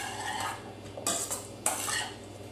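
A spoon scrapes and clinks against a bowl while shredded cheddar cheese is mixed into a stuffed pepper filling, with a few sharp metallic knocks among the softer stirring sounds.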